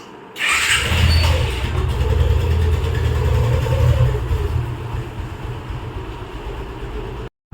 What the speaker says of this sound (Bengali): আমার হাবিব বাইক চালাচ্ছে, আমি পেছনে বসে আছি